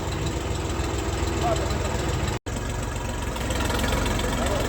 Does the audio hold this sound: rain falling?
no